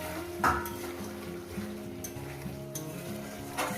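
Spiced fish curry with taro sautés in a pan as coriander leaves go in, giving a steady close sizzle with occasional sharp scrapes and clinks from stirring and no talking.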